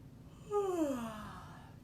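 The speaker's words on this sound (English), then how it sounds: "take a yawn" A person takes a single slow yawn, a soft breathy, falling vocal sound lasting under a second, quiet and close.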